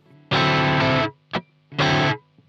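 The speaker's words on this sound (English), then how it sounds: "The other thing you can add is a cheeky little upstroke before your second downstroke" Distorted electric guitar rhythm pattern for a rock tutorial: two long, loud strummed chords separated by a quick, short upstroke before the second downstroke, then a faint muted scratch.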